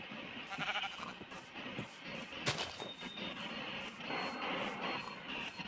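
Sheep in the Minecraft video game bleat in a few short, faint calls over a low background hum, with no talking.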